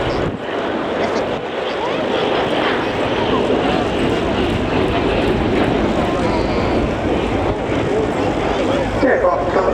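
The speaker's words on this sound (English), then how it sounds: "The aircraft is currently operated by number 56 Squadron" A military aircraft at the RIAT airshow roars overhead in a loud, continuous broadband rush mixed with wind buffeting on the microphone, sustained throughout without a break.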